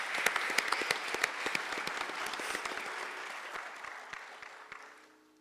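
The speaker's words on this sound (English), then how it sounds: "Let's give a round of applause for Mr." An audience at an Arangetram Bharatanatyam dance recital gives a round of applause, individual sharp claps standing out at first before blending into a steady patter that fades away at the close.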